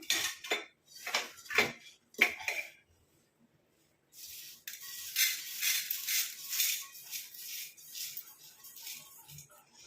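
Roasted ingredients tip from an iron pan onto a plate, a burst of scraping and clattering metal-on-plate sounds for a couple of seconds, a pause, then a steady sustained rattling pour of dry bits, close and fairly loud.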